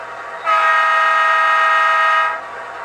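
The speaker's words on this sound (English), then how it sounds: "Here's the horn I selected, which sounds the most to me like CN." Horn from a Bowser MLW C630M model locomotive in Canadian National sound, a single sustained long blast of about two seconds, clear and close with a steady chord-like tone that cuts off cleanly.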